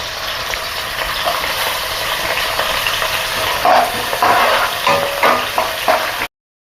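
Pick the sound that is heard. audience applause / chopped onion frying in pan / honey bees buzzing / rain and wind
chopped onion frying in pan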